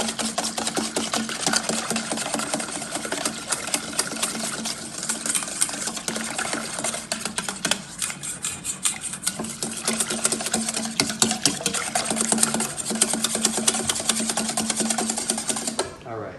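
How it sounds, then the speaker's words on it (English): A whisk beats sugar into liquid for semolina pizza dough, scraping rapidly and steadily against the bowl in a dense, continuous rattle with no talk. "we're gonna whisk rapidly, making sure to incorporate everything so it dissolves"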